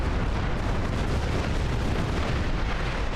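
A sphere explodes in a Star Trek video game with a dense, roaring blast that stays loud and sustained for its full length, with no talking over it.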